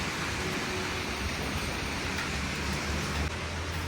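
Dense, steady hiss of heavy monsoon-style rain pouring down continuously on a school morning, with no other sounds standing out.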